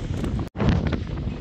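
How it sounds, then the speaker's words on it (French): Gusting wind buffets the microphone on the Portuguese coast, a loud rumbling roar that cuts out for an instant before surging back. "Et il y a du vent."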